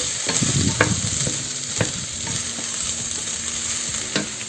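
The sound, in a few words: stirring celery in vegetarian bolognese sauce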